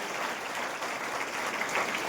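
Applause from a seminar audience at a direct-selling business presentation, a dense steady patter of many hands clapping throughout, fairly loud and close.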